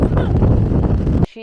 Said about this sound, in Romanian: Cam așa este vântul la Belvedere, la altitudinea asta.